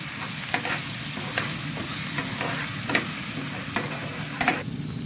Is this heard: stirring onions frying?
yes